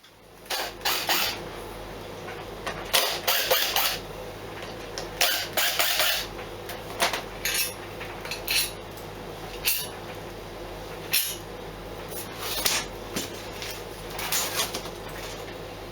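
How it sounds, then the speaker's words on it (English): Phillips screws being removed from underneath a workshop chair's vinyl seat pad, with repeated short bursts of ratcheting and scraping driver turns, close and irregular, separated by brief pauses. "we'll unscrew the actual seat pad. I think it's just 4 screws underneath, 4 Phillips screws"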